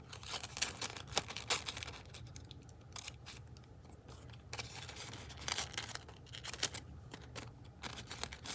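Scissors snipping through a magazine image, a faint close run of short crisp cuts and rustling paper in uneven clusters, with no voices.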